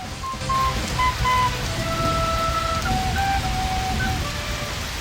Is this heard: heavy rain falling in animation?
yes